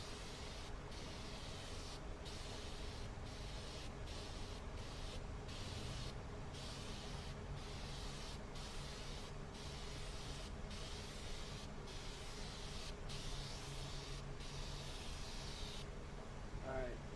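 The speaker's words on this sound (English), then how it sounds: "so that's our second base coat" A spray gun lays base coat paint on a 2007 Ford Edge bumper cover, its hiss sounding in a long run of regular bursts separated by short pauses, fairly faint and continuous throughout.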